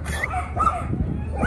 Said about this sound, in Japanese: 吠えてる子もいるね。